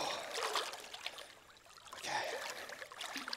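Water of a stream pushing and trickling around legs while wading across, among bits of a fallen bridge, a steady close splashing wash at moderate level, with no talk.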